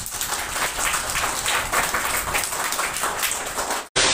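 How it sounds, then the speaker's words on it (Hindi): A room full of schoolchildren clapping together in a classroom: dense, steady group applause that carries on for about four seconds, then drops out briefly before another burst begins. "चलिए ताली बजा दीजिए सब लोग।"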